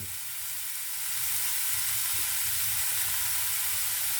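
Loud, steady sizzle of oyster sauce hitting a hot frying pan, a continuous hiss that swells slightly and holds with no talking.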